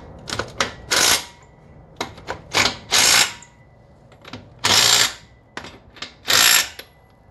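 A ratchet tightens parts of an 11.5-inch AAM rear axle assembly on a Silverado dually truck, with sharp bursts of rapid ratcheting clicks repeating in short bouts, close and loud.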